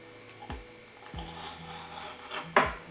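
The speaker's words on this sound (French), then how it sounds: "Et puis découper la gousse de vanille" A knife slices through a vanilla pod on a cutting board with a few short scraping strokes, the last one louder and rasping, all close and with no speech.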